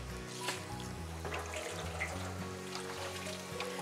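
Hands are washed under a running kitchen tap on a cooking show, a steady stream of water splashing continuously with small drips and splatters.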